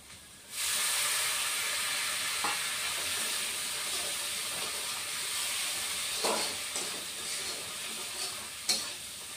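Water hits garlic paste frying in a pan for mustard rohu and it bursts into a sudden, loud sizzle. The steady hiss holds close, with faint stirring scrapes and no talk.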